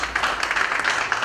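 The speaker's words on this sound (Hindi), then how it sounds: "जोरदार तालियां इनके लिए" Dense applause from an audience at a women's awards ceremony, honouring a winner: a steady wash of many hands clapping, fairly loud and close, with no gaps across the short burst.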